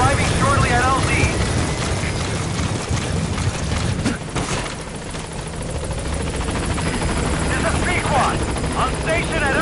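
A support helicopter arriving at a landing zone in Metal Gear Solid V, its loud, steady rotor chop running throughout under radio-style speech.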